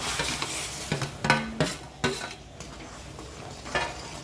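A spoon stirs roasted semolina into boiling milk for sheera in a pot, scraping and knocking against the metal with a soft sizzle, in irregular bursts close by.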